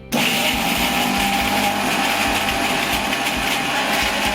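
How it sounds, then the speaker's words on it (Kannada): A mixer grinder starts abruptly and whirs steadily at high speed, grinding spiced masala with a little water into a smooth paste for kat vada, loud and close with no talking. "ಸ್ವಲ್ಪ ನೀರು ಹಾಕಿ ನುಣ್ಣಗಾಗುವವರೆಗೆ ರುಬ್ಬಿಕೊಳ್ಳಿ"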